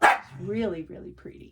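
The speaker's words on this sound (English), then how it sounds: "That was a dog." A dog gives a short bark at the start in a quiet room where cross-stitch is being shown, then someone speaks softly over the end of it.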